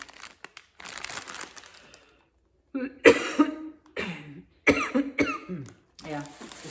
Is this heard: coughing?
yes